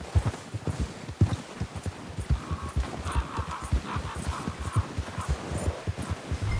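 Horse trotting in Red Dead Redemption 2, a steady run of clip-clop hoofbeats, fairly close and continuous, with a faint whinny-like tone partway through.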